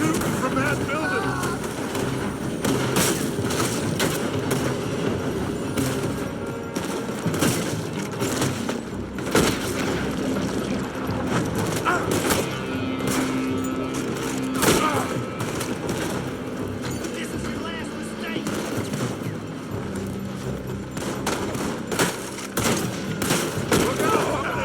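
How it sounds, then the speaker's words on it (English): Gunfire in Red Dead Redemption 2 during a shootout: repeated rifle and pistol shots crack and rattle in rapid bursts for the whole stretch, with voices shouting over the fire. "They're shooting from that building."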